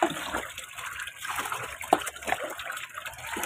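Laundry is rinsed by hand in a basin of water, with irregular sloshing and splashing bursts, soft and close, with a faint steady background hiss.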